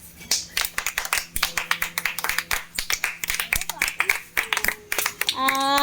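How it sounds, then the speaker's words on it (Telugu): People clap in a brisk, irregular run of sharp close claps during a home eating-challenge game, with voices talking over them and a sung or shouted tone near the end. "హాస్ని కూడా క్లాప్స్"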